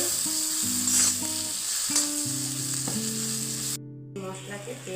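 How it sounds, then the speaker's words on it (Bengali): Spices and chopped tomato fry in a pan for a Bengali egg and chana dal dish, a steady close sizzle with scraping stirs throughout, no voices. "ভালো করে নাড়তে থাকবেন যতক্ষণ মশলাটা কষা না হয়ে যাবে।"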